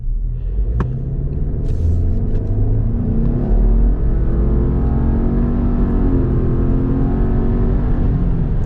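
A turbocharged 4-cylinder family car accelerates from 0 to 60, heard from inside as a loud, steady engine drone climbing through rising gear-bound pitch sweeps, with no one speaking.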